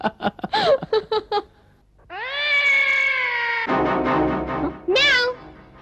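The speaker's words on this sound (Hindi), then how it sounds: "कहीं ऐसा ना हो शक्तिमान तक पहुंचने के लिए बिल्ली आपके पीछे पड़ जाए।" A cat meows repeatedly in short, bright calls, then lets out a long drawn-out yowl followed by another rising meow, loud and close with no talking over it.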